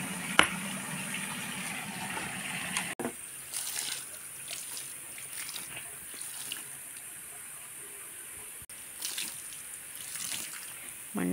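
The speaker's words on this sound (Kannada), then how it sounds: "ಮಣ್ಣಿಗೆ ಈ ಥರ ನೀರು ಹಾಕಿ" Water is poured onto soil to mix clay for a mud stove, giving faint, uneven splashing and trickling with a few sharp knocks, close and quiet outdoors.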